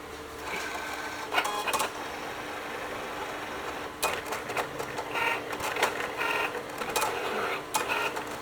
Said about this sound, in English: I'm gonna go get my Cricut out now